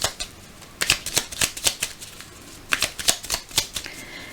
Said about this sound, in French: Allez, on mélange les signes.